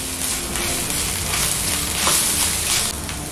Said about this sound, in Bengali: মশলাগুলো একসঙ্গে খুব ভালো করে মিশিয়ে নেওয়ার পরে 1 মিনিটের মতন রান্না করে নিয়েছিলাম